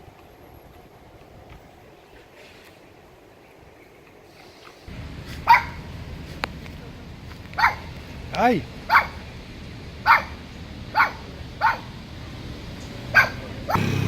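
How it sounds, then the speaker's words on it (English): Several street dogs in Pattaya bark in a scattered series of sharp, moderately loud woofs on a street, with people talking in between. "Couple of street dogs here."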